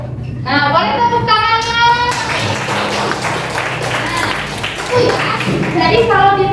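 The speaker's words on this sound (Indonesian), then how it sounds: "boleh tepuk tangannya" Students clapping in a classroom, a burst of applause mixed with children's chatter and a teacher speaking over it, fairly loud and close.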